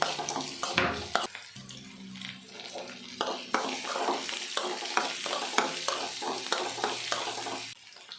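Chopped onion frying in oil in a pan with curry leaves, stirred with a steady run of close scraping strokes over a continuous sizzle, fairly quiet overall.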